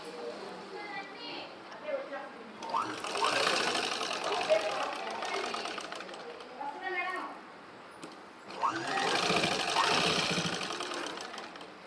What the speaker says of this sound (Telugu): ఇంకొక కుట్టు వేసుకుంటున్నాను